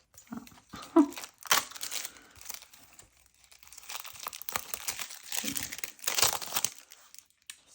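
Old 1993 Hanwell Cottage cross stitch kit packaging rustles and crinkles in close, irregular bursts of handling, with quieter pauses between.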